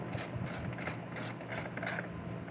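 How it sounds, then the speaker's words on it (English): Close, quiet ratchet clicks come in a steady rhythm of about six short bursts as bolts are tightened on a push mower carburetor. "And then you can tighten it all the way down."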